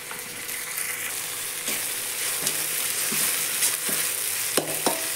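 Ginger garlic paste sizzling and frying in a hot pan, a steady broadband crackle with several sharp stirring clicks and scrapes spaced through it, close and fairly loud.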